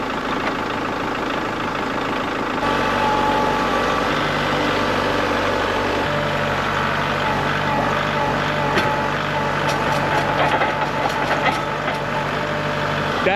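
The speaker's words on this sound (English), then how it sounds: "I have the tractor warming up" A tractor engine warms up at idle on a frosty April morning, a steady, close diesel rumble that continues throughout, with a few sharp clicks and knocks over the drone toward the end.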